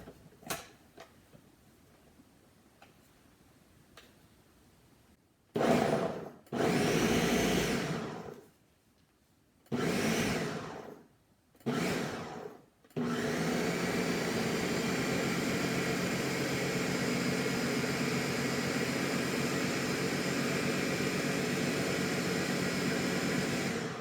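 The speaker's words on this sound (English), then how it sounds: "about 2 cups of chickpeas that were soaked and cooked. And we're going to mix it up." A food processor blends soaked, cooked chickpeas into hummus: after a quiet stretch it runs in several short loud bursts with pauses between, then settles into one continuous steady whir until the end.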